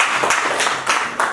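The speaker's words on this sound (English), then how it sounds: "You clap for literature" A class of students clapping hands together in a classroom, a dense, loud burst of many claps with no voices on top.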